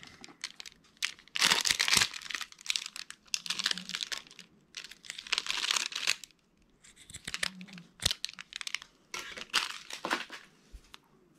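Crafting ribbon being handled and crinkled produces bursts of dry rustling and crackling in uneven clusters, close and fairly quiet, with short pauses between each handful.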